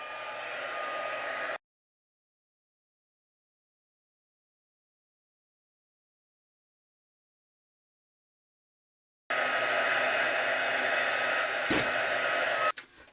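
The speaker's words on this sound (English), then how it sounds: "we're going to take the heat tool. And this is the brand new heat tool. It's got 2 settings." A brand-new embossing heat tool on its highest setting blows hot air to heat-set stamped ink on vellum for a Christmas card, a steady whirring hiss that runs briefly, stops for several seconds of silence, then starts again.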